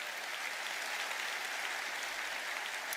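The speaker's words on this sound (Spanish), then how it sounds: "si tú lo crees, da fuerte ese aplauso" Sustained clapping from a church conference audience, an even, unbroken patter of many hands heard from a moderate distance with no voices on top.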